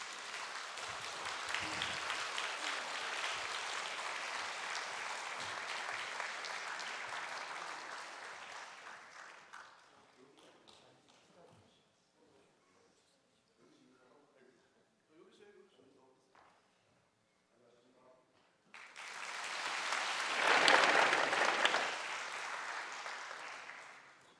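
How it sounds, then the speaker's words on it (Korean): Congregation applause at a 2023 Easter union worship service in Gangneung, welcoming the mayor and a member of parliament. Clapping swells for several seconds, falls away into quiet footsteps and murmurs, then rises again in a second loud burst. "우리 나오실 때 박수로 앞으로."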